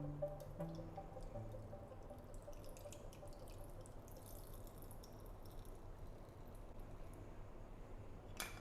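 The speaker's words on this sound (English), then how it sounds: "Let's go ahead and pour that in." A gin mule is poured from a cocktail shaker into a copper mug over a big chunk of ice. The liquid makes a faint, close trickle with soft drips and splashes against quiet room noise.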